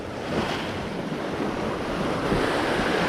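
Lake waves wash in a steady, continuous roar at a tilapia fishing spot, with strong wind buffeting the microphone and no distinct breaks.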